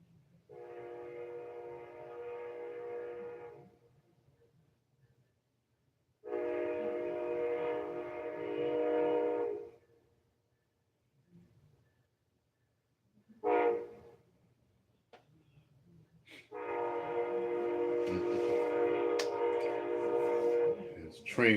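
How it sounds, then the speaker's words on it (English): Train passing on tracks near a house on a cold, rainy day, sounding several long blaring horn blasts with gaps between them over a low rolling rumble, fairly close. "There's a train going past"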